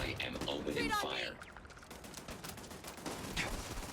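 Gunfire in the video game Starfield: after a brief voice, rapid overlapping shots crackle in dense bursts at moderate loudness for the rest of the moment.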